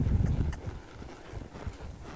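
Soft hoofbeats of a young mare at a lope on her first ride, a muffled rolling clip-clop that starts strong and fades to quieter footfalls, with no voices.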